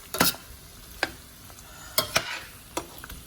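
Meat and okra with onion, garlic and tomato paste stirred in a hot pot, a spoon scraping in a few sharp clacks over a soft, steady sizzle, close by with no talking.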